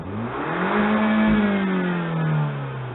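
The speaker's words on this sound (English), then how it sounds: "it's a slow revving car, and it would be really cool if it revved up to like 7 or 8 grand," An Abarth 500's engine, a slow-revving car topping out around 6,500 rpm, climbs through a steady rev and then eases back down, a close, smooth mid-pitched tone that rises, peaks and tapers.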